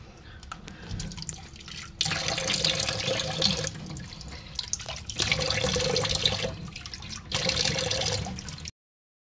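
Water runs from a tap into a sink while a face is being rinsed, a steady splashing wash that comes in bursts with short quieter gaps, near and moderately loud with no talking.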